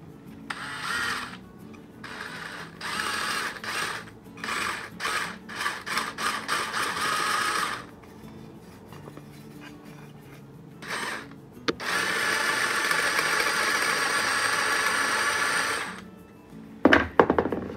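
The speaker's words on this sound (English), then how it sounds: "We are gonna drill a hole in the middle of our tree." A drill with a 3/8 bit bores a hole into a wooden tree decoration in several bursts, stopping and restarting, with a longer, steadier grinding stretch near the end, close and fairly loud.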